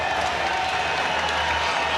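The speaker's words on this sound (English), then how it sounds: "Crowd getting back into it." A wrestling crowd at a college dual meet between Virginia and NC State applauds and cheers steadily, a dense wash of clapping from a full arena with no break.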